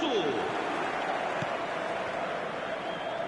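Stadium crowd noise in the football video game eFootball 2025, a dense, continuous roar of a large crowd on a clear night, steady and fairly loud throughout with no distinct voices standing out.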